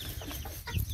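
Roosters and other fowl in a backyard breeding flock, including Pekin bantams, give short clucks close by over a busy, noisy background. The sounds are brief and there is no speech.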